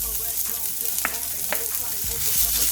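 Chopped garlic, ginger and green chili sizzle steadily in a hot pan for a crispy corn dish, with loud, close frying hiss and a few stirring clacks.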